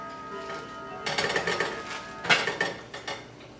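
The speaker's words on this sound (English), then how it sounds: "So I'll cut it with my spatula." A metal spatula cuts through a warm apple strudel on a pan, giving a few soft scraping clicks and taps that rise in the middle of the stretch and then fade, close by and fairly quiet.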